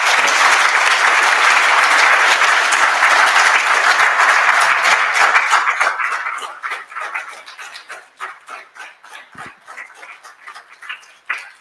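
Audience applause at a CEO talk event in honour of guest Cessé Komé, a dense, loud ovation that holds steady for several seconds, then thins into scattered individual claps before fading out.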